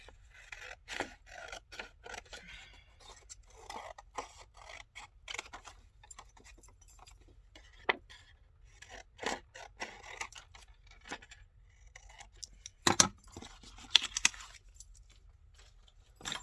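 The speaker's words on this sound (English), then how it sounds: "Then we can cut this out." Scissors snipping through an embossed paper postcard, a series of short crisp cuts and rasps with quiet pauses between, close and fairly soft.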